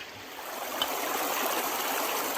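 Strong, steady rush of water pouring through a gold sluice box set up in Wisconsin, a continuous broadband wash that stays even and close throughout with no voices.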